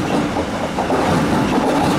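A Panda metro train rolls into a departure platform, a loud, close, continuous rumble of wheels on rails with faint rhythmic clatter and no talking.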